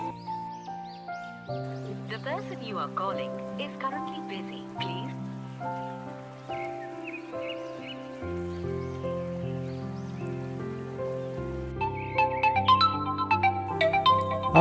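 An incoming call rings out as a melodic mobile phone ringtone, loud and close, playing its tune continuously from start to finish with no voices over it.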